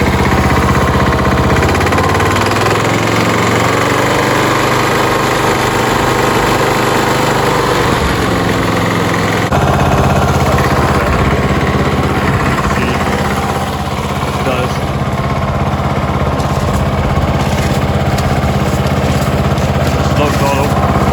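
A Craftsman leaf vac's small gasoline engine runs loud and steady for the whole stretch, with a buzzing drone that shifts slightly in tone partway through and then holds even.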